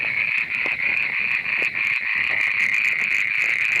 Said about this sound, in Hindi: मेंढक है, मेंढक है।